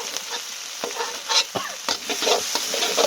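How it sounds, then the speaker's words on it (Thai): Chili and garlic stir-frying in a pan for papaya stir-fry, a continuous hot sizzle with quick scraping strokes of a spatula against the pan, close and loud, no talking. "พริกกระเทียมเพื่อน ผัดให้หอมเลยเพื่อน"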